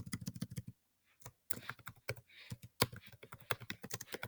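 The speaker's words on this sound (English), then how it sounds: "Trying to type too fast." Fast typing on a computer keyboard, a quick run of close, crisp key clicks, a short pause, then more irregular bursts of tapping and a few louder keystrokes.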